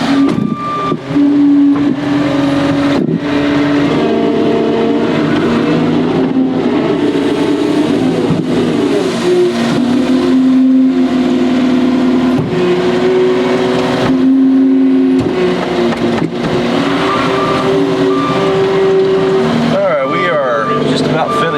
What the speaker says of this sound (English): This is a small skid steer, but I think pushes like a bulldozer.